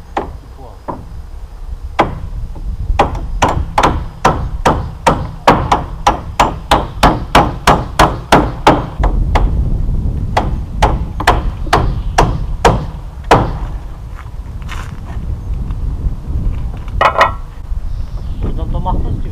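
A hammer drives fixings into roof counter battens in a fast run of sharp, loud, evenly spaced blows. The strikes then thin out to scattered single knocks while people chat nearby.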